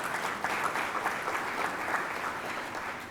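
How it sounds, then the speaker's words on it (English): An audience at a civic forum marking 60 years of the Civil Rights Act applauds in a steady, even patter of many hands for about three seconds, with no voices over it. "Another round of applause."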